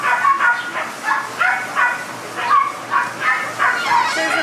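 A rescued long-haired dog with badly matted fur barks and yips in a quick, regular series of loud, close, high-pitched calls, with no talk.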